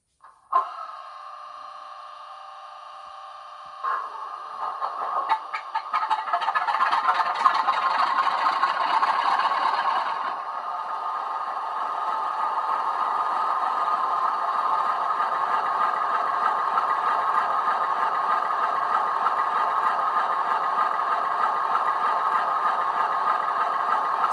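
Model Class 47 locomotive with DCC sound runs its startup sequence: a clanking rattle gives way to a rising roar around the middle, then settles into a steady, even diesel idle that holds to the end.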